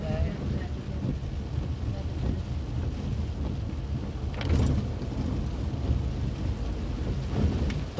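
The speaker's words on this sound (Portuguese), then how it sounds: "Tome chuva." Heavy rain drums steadily against a vehicle descending the Serra de Santa Teresa mountain road, a loud continuous wash of noise with wind rumble.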